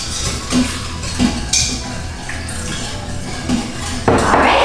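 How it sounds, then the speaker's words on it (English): A whisk clinks and scrapes against the metal inner pot of an Instant Pot as almond milk is beaten into wheat flour, with rhythmic strokes, a couple of sharper taps and a splash near the end, close and without voices. "now you're going to whisk in 1 cup of almond milk"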